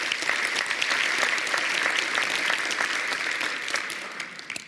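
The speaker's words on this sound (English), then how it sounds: "Please give yourselves a round of applause." Campus workplace gathering audience applauding warmly, a dense, sustained patter of many hands that stays strong and then begins to thin near the end.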